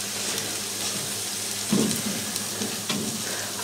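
Bacon fries in a pan with a close, steady crackling sizzle for a bacon and egg pie, and a few louder bursts and stirring knocks rise out of the hiss partway through.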